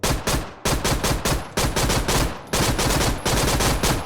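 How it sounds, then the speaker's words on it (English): Automatic gunfire from guns in the HYBRID Test Chamber VR tech demo: five loud, rapid bursts, each lasting about half a second and separated by short gaps, with no talking. "let's have a quick test of the guns"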